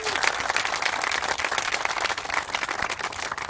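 An audience gives a round of applause at an event about the National World War I Museum and Memorial in Kansas City, dense sustained clapping from many hands filling the room, with faint crowd voices mixed in.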